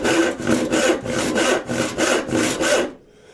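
Hand saw drawing back and forth through wood in steady, evenly spaced strokes, about eight close, loud rasping passes before stopping abruptly into near silence.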